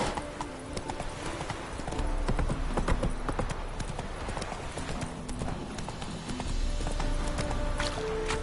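Roach, a horse in Witcher 3, gallops with a fast, continuous clip-clop of hooves, loud and close under a busy game soundscape, with occasional whinnies and brief speech.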